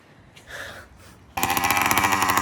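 A 100cc two-stroke motorized bicycle engine starts and then runs at idle with a loud, rapid, buzzing rattle. Faint rustling noises come before it fires.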